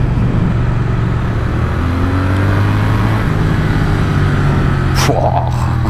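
Triumph Speed Twin motorcycle engine pulls hard under acceleration, a loud, continuous close drone with rising pitch lines and wind rush, a brief sharp noise near the end.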